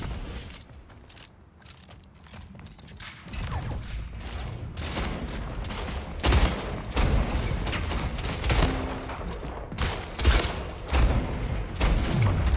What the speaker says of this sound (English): Motherfucker, I missed 2 shots there